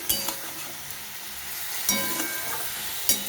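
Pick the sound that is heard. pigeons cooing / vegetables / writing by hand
vegetables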